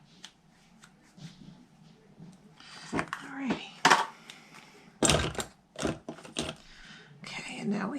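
Scissors snip ribbon for a bow on a stamped Valentine's treat bag. Crisp, close cuts and rustles of ribbon are mixed with a light handling clatter, and someone speaks softly over part of it.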